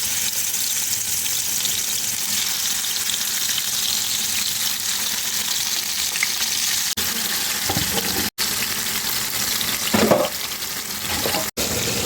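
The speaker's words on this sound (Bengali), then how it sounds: "মাছটাকে ভেজে নেব।" Rita fish fries in hot oil in a heated kadai, giving a loud, steady crackling sizzle throughout with a couple of brief clinks and a faint scrape.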